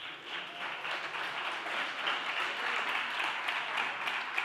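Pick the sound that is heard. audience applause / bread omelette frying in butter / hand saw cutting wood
audience applause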